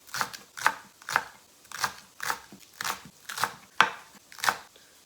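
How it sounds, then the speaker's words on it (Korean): A knife finely chopping green onion on a cutting board, about nine crisp evenly spaced strikes, close and clear with no talk. "먼저 파를 잘게 썰어주시면 돼요."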